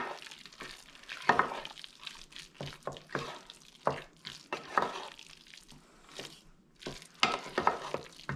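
A lobster and cod fish cake mixture with crushed red pepper is stirred in a bowl, making soft, irregular scraping and squishing sounds at close range, quiet and uneven.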